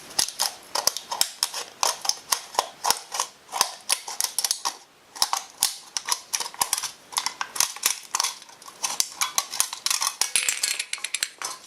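Repeated crisp snipping and crunching of scissors cutting through stiff material, irregular bursts close by with brief pauses.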